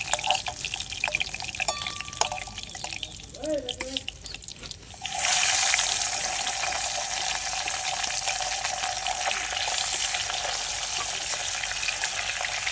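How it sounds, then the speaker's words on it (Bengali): Fish sizzling and crackling in hot oil in a home kitchen, quieter at first with a voice talking, then a loud, steady, close frying hiss for the rest. "দেখতেই পাচ্ছ মাছ ভাজা হয়ে গেছে লাল লাল করে আমি মাছগুলো ভেজে নিলাম"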